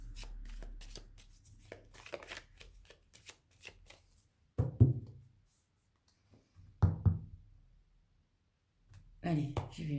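Tarot cards shuffled by hand: a dense run of soft papery riffles at first, then three separate crisp bursts of shuffling spaced by silence, close and fairly quiet.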